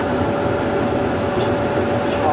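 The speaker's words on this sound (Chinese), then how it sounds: "目前列车持续乘进的方式，直接接近我们的故障列车。" A Taipei Metro Circular Line rescue train approaches during a simulated breakdown drill, with a loud, steady rumbling drone and a faint tonal whine, heard from close by inside the train.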